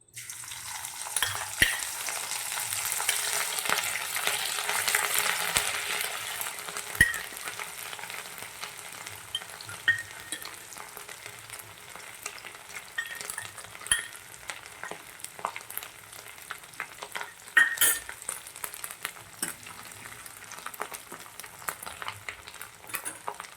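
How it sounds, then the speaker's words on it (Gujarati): Ginger-chilli paste fries in hot oil in a kadai, giving a continuous crackling sizzle that is strongest early on and then settles, with occasional scrapes and clinks of stirring. "હવે આપણું તેલ ગરમ થઈ ગયું છે તો તેમાં આપણે વાટેલું આદું મરચું નાખી દઈશું"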